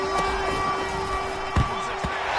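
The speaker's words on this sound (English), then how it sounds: "this crowd gets out making some noise" Football stadium crowd making noise at a Seahawks versus Steelers game on third and short, a dense roar with a sustained siren-like tone running through it and a few thuds.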